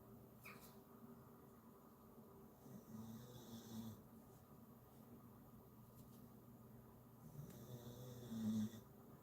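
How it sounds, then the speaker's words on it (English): A dog snores softly in a quiet room during a miniature painting session, giving several faint, slow snores spaced a few seconds apart, with no one talking. "That dog's snoring again."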